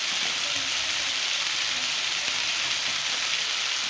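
Chicken masala roasting in a pan for a restaurant-style chicken curry gives a steady, dense sizzle and crackle that holds evenly throughout, close and continuous, with no talking.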